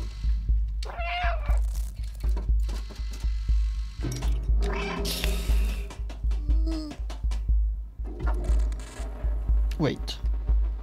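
A cat meows several times in the video game Stray, short calls over a steady low rumble of game ambience and music, with occasional clicks and shuffling.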